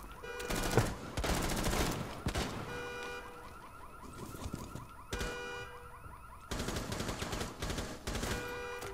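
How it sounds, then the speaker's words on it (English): Rapid automatic gunfire from the video game Rainbow Six Siege erupts in loud, dense bursts separated by brief lulls, layered over a steady electronic alarm-like tone throughout. "I hear gunfire"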